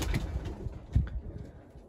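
Domestic pigeons kept for sale, including show breeds, cooing softly in low, throaty bursts close by in a loft, with no voices.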